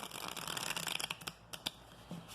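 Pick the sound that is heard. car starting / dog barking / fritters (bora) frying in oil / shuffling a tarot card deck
shuffling a tarot card deck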